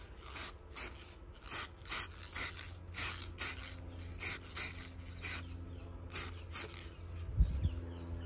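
An aerosol coat is sprayed onto the yellowed headlights of a Chrysler PT Cruiser in short, evenly spaced hissing bursts, about a dozen in eight seconds, close and steady, with no talking.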